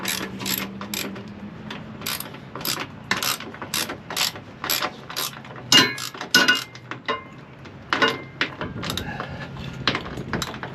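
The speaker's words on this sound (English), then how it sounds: "tighten up our final bolt on this side" A ratchet wrench clicks rapidly in quick bursts while tightening the final bolt of a Bal Hide a Spare tire carrier, sharp metallic ticks close up with short pauses between strokes and no talk.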